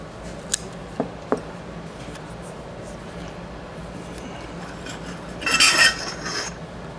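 Scissors snip a plastic drinking straw for a mouse trap: a few crisp, close clicks early on, then a short scraping, rasping burst near the end over a quiet room hiss.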